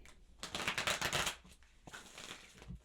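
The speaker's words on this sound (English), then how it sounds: "One more shuffle, please" Tarot cards being shuffled by hand, a quick papery riffle building to a dense burst, then a second softer run of flicking and tapping, close and moderately quiet with no talk.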